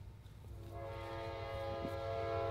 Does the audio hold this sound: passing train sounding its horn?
yes